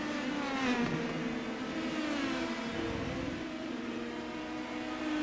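An Indy Pro 2000 race car in iRacing leaving pit lane at Nashville Fairgrounds, a whining engine that revs and climbs through gears, moderately loud and steady.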